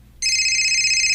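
A telephone starts ringing with a bright electronic trill that begins abruptly and holds steady, loud and close, with no talk over it.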